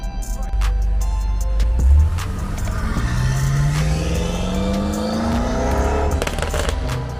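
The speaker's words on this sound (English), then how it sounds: "And that M5 right there, he just built that motor right there." A BMW M5 with a fully built engine revs hard and loudly nearby, its pitch sweeping steadily upward in a long sustained pull, with sharp crackles and rasps on top and no talking.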